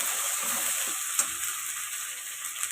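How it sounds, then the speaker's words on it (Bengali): Garlic and ginger frying in a pan, a soft, even sizzle with a faint hiss, broken by a couple of small clicks from stirring, heard on its own. "এবার দেখছো রসুনটা হয়ে গেছে ভাজা ভাজা, এর সাথে আমরা দিয়ে দেবো আদা।"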